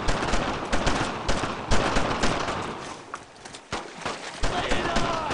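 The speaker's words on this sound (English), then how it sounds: "Covering fire! Suppressive fire!" Gunfire erupts in the World War II shooter Brothers in Arms: Road to Hill 30, with rapid bursts of rifle and machine-gun shots in a loud, uneven volley while soldiers shout under and between the shots.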